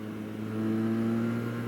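Benelli 302S motorcycle engine pulling in fourth gear at around 6,000 RPM, a steady, smooth mid-pitched drone with a slight swell in the middle, heard alone and at moderate distance.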